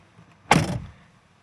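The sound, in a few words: Jeep Wrangler JL door opening and closing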